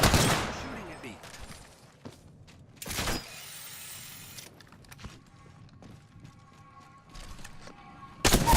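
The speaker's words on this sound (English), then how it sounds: "Shooting at me." Gunfire in the Apex Legends video game, with several sharp bursts and rapid shots spread across the scene, some loud and close, others fainter between quieter stretches of game noise.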